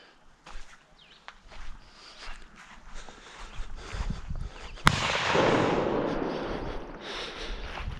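A LeMat revolver's smoothbore shotgun barrel fires round balls outdoors: a single sharp report near the middle, followed by a long rumbling tail and echo that slowly fades, with faint scuffing beforehand and no talking.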